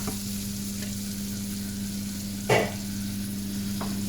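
Butter foaming in a hot pan at an end-of-season rugby club cook-along, giving a steady soft sizzle with a low hum behind it and one brief louder crackle partway through.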